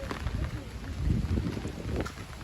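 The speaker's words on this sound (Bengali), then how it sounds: "প্রচুর বাতাস, প্রচুর প্রচুর প্রচুর, যা বলার বাইরে।" Strong wind blows hard, roaring and buffeting against the microphone in uneven low gusts that swell midway and again at the end.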